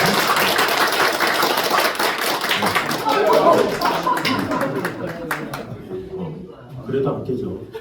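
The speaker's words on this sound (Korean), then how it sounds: "박수." A church congregation at a Sunday morning service gives a loud, dense round of applause for about five seconds. The clapping then thins out, and a voice speaks as it ends.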